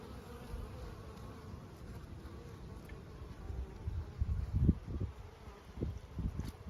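Honeybees buzz around a Layens hive on a warm spring afternoon, a steady, soft drone of many insects with louder passes from bees flying close by.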